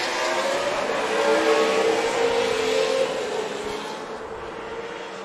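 TA and TA2 class race cars roar away at the start after the pace car pulls off, engines blaring loud and sustained as the pack accelerates together, the sound holding strong before easing slightly as the field moves off.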